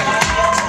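A roast-battle comedy audience erupts in a brief burst of cheering and clapping for a roaster named Mike Cannon, loud, dense and close.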